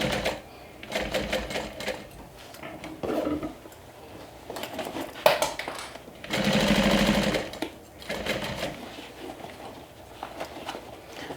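A sewing machine stitches through thick layers of fabric while assembling a Wayfarer 2.0 bag. Its motor whirs in bursts of rapid clatter, with a longer, louder run near the middle and quieter pauses between.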